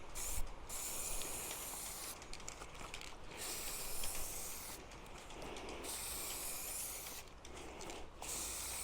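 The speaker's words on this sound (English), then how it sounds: "Keep rattling that can." A spray paint can is rattled and sprayed outdoors in a breeze, giving a faint, steady hiss broken by brief regular pauses, with light mechanical clicking throughout.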